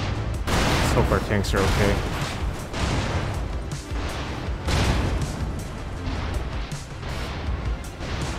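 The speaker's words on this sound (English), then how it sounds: "Not sure if this is our arty or their arty, but it's really close." Close artillery shelling in the tank game Gunner HEAT PC during an Abrams and Bradley assault on a ridgeline, heavy booms and crashing blasts repeating across a dense rumbling barrage while someone talks over it.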